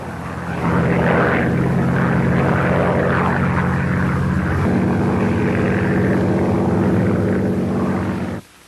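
Propeller aircraft, wartime bombers, drone steadily overhead with a loud, sustained engine roar and stable harmonic hum that holds throughout, then cuts off abruptly near the end; no voices.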